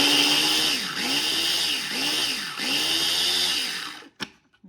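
A food processor finely chopping parsley for a homemade dip. The motor drones loud and close in several pulsing surges, then cuts off, followed by a few faint clatters.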